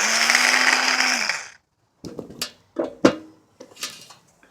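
A small drill bores into stone for jewelry making, whining steadily for about a second before stopping, followed by a few sharp taps and knocks of the stone being handled.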